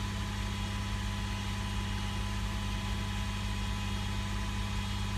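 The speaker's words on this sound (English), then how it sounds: "It's gonna maintain the RPMs by itself, so you just have to keep the gas pedal pressed in all the way." An Audi A4 engine held at steady high RPM during readiness-code setting after an engine control module replacement, a constant loud drone with a low hum and no breaks.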